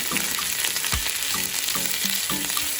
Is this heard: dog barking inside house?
no